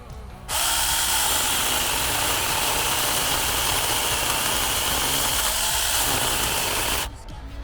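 A small cordless electric mini chainsaw, an Avant with a brushed motor, whirs at a high, steady pitch for several seconds, starting abruptly and cutting off near the end.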